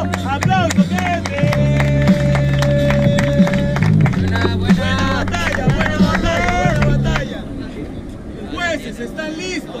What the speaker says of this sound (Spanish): ¡Aplauso, gente!